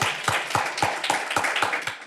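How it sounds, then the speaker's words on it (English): Audience applause at a business and property event after a guest speaker finishes, heard as a close, loud run of roughly eight strong, evenly spaced claps, rhythmic and without voices. "let's give her a round of applause"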